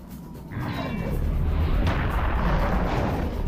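Heavy cannon fire from the Serious Sam video game, a loud booming blast kicking in after half a second and rolling on as a sustained, dense roar with low rumble, no speech over it.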